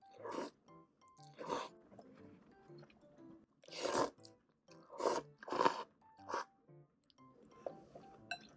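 Close-up chewing of Korean dumplings (mandu), a slow run of wet, squishy bites and mastication in separate bursts over several seconds, with no talk.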